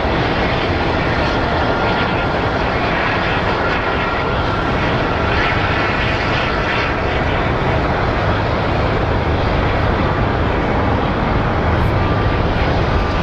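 A Boeing 737 MAX airliner at Phoenix Sky Harbor Airport produces a loud, continuous jet engine roar that holds steady throughout, with no talking.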